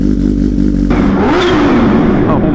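A Kawasaki H2 motorcycle engine runs loud and close, then revs up with a rising, wavering pitch before settling, no speech over it.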